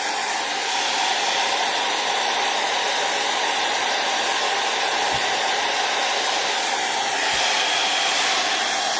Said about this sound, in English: I've got like a cool blast on my hair dryer.